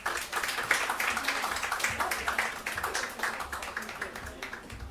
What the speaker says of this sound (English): A round of applause for all of the speakers